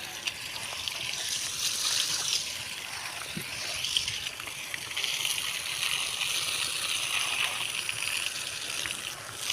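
Water leaking from a badly cracked old pipe onto muddy ground, a steady close splashing and trickling flow that runs on continuously without voices.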